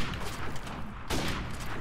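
A grenade blast in Call of Duty Modern Warfare Remastered: a sharp, close explosion erupts about a second in, bursting out of dense gunfire and crackling noise that fills the short clip.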